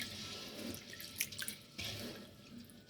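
Sticky rice is rinsed in water, making soft sloshing, swirling and dripping sounds with a few clinks. The sound is close but quiet, with no voices.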